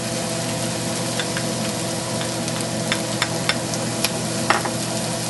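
Garlic being stirred into a pan of caramelized onions and portabella mushrooms for a pasta sauce gives a steady, close sizzle, broken by a few soft spatula scrapes and small crackles.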